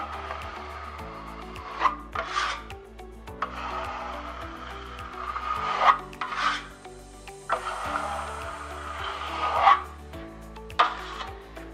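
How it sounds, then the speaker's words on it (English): Drywall joint compound spread as a fill coat over fiberglass mesh tape with a knife, rhythmic scraping strokes, quiet and close, under a faint background hum. "I'm just going to apply a quick fill coat, even though the compound is not dry"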